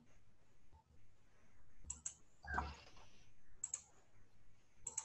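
A computer mouse clicking while drawing in Revit software, a handful of sharp, close, dry clicks, some in quick pairs, spaced irregularly over quiet room tone.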